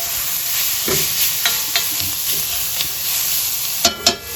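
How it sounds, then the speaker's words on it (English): Minced garlic sizzles in a pan for Sunday gravy while a utensil stirs it, giving a soft, steady frying hiss with a few sharper scraping knocks near the end. "Add in my minced garlic. Mix that up a little."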